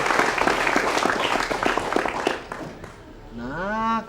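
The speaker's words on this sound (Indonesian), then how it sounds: "Tepuk tangan." Hand clapping from an audience at a school event in Palembang, a burst of lively applause that fades out after a couple of seconds and gives way to a voice.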